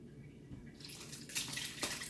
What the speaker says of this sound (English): You're going to pour this sauce in this chicken.